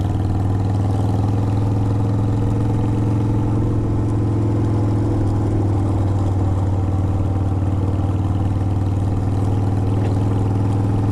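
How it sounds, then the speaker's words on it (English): A vehicle engine running in second gear at about 25 mph, a loud steady low drone with constant harmonic hum and slight variation in pitch, heard close and alone throughout. "She definitely seems to be a little happier as far as RPM wise at 25 miles an hour in second gear."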